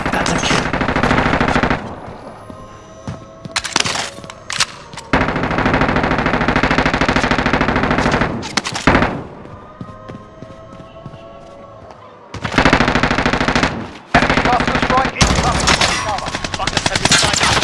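Machine gun fire in a video game battle royale: long, loud automatic bursts lasting several seconds each, separated by short pauses and scattered single shots, with no talking.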